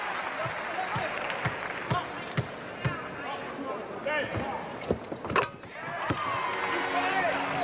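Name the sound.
arena crowd applause at basketball game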